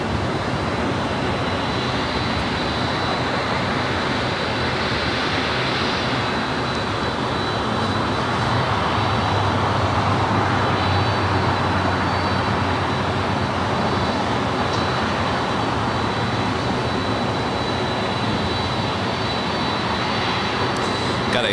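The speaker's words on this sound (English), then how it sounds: "It's a 737 MAX 8." United Airlines Boeing 737 MAX 8 arriving at LAX, a sustained jet engine roar with a faint high whine, steady and moderately loud throughout, no voices.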